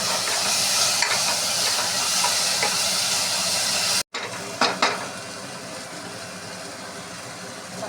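Garlic and tomato sauté in a pan for a spinach kootu with a steady, loud sizzling hiss, then a sudden cut to a quieter sizzle broken by a couple of sharp utensil clinks.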